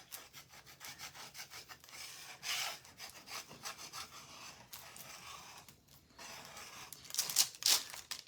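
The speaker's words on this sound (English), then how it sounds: "All right, we're going to scrape it again" A hand scraper drags repeatedly across a wooden craft piece in a rough, rasping back-and-forth rhythm, close and moderately loud, with no talking over it.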